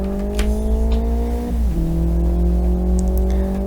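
A race car slides during a rallycross lap in Live For Speed, its engine holding a steady loud drone that dips in pitch as the car drifts, with faint tire noise and no talk.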